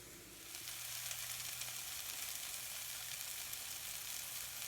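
Eggplant pieces with their skins on cook down in hot oil, giving a steady, dense sizzle and frying hiss that holds evenly throughout with no talking.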